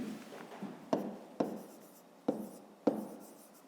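Pen or pencil scratches on paper while a math exercise is worked by hand: close, soft writing strokes with several sharp taps as marks are made, and no talking.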